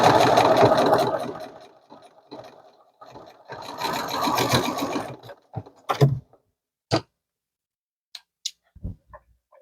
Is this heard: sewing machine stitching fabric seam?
yes